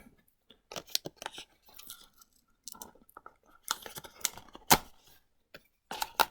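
Burgundy Samsung Galaxy Fold 4 phone box packaging being cut open with a knife, heard as a string of close, sharp slicing and tearing scrapes in bursts with brief pauses between, with no one speaking.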